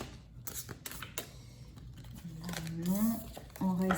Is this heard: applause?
no